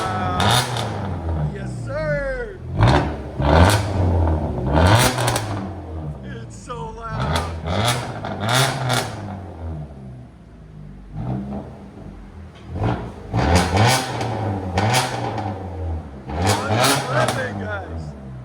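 A straight-piped 2015 Dodge Dart GT with a 2.4L engine revving loudly in repeated bursts, each rev rising and falling, with people talking between and over the revs.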